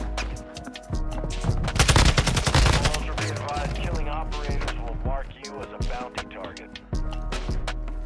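Dense, rapid gunfire from a shooter video game: machine-gun bursts and overlapping shots crackle almost continuously and stay loud throughout.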